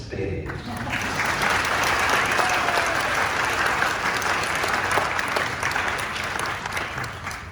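Audience at a hometown legend stage event applauds steadily for several seconds, a dense wash of clapping that swells quickly, holds, then tapers slightly at the end.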